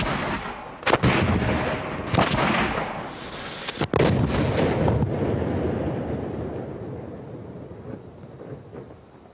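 A late 19th-century 64-pounder cannon fires, with sharp booming blasts followed by a long rolling rumble that fades slowly, loud and nearby.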